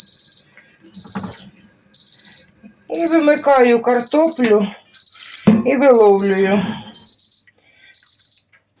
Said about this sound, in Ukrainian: Все, спрацював таймер.